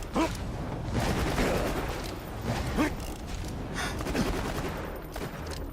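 Dense rapid gunfire from a Borderlands 2 shootout, steady volleys of shots rattling continuously for several seconds at close range with no pauses.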